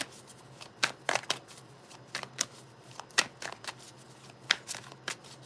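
Tarot cards are shuffled by hand in a quiet room, with crisp riffling bursts coming in irregular clusters of several quick flutters and brief pauses between them.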